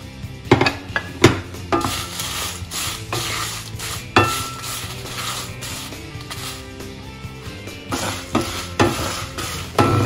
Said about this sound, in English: So make sure to roast the chilies on low to medium heat because it shouldn't burn.